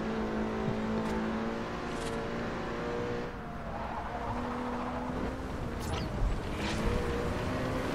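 A Ferrari California engine hums and revs in the video game Forza Horizon, a steady droning tone rising and falling with gear changes, with faint tire noise and occasional soft talk over it.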